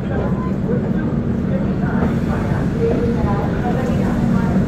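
Kolkata–Jaynagar express 13135 leaving Barauni Junction, a constant rolling rumble and rattle of the moving carriages heard from inside, steady and moderately loud, with faint voices in the background.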